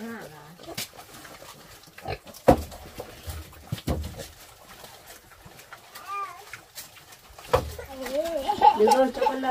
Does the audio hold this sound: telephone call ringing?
no